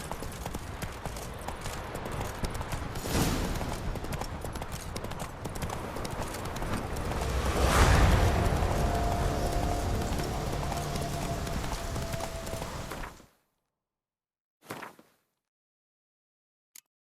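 Horse hooves clip-clopping at a steady gallop in The Witcher 3, rhythmic and close, building for several seconds before cutting off abruptly to near silence.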